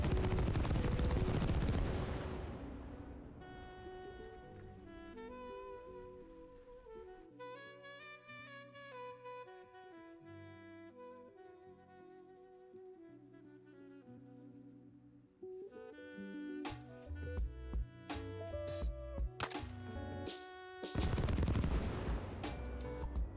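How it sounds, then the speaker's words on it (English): Mine explosions in the video game Arma Reforger: heavy booming blasts at the start and end, with a rapid crackling cluster between, over a musical background, loud and close. "seeing how big I could make the explosions with mines too"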